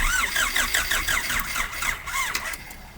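An Audi that has sat unused for a long time cranks repeatedly without catching, a steady rhythmic churning of the starter with a faint squeal, loud and close, in several bursts with brief pauses.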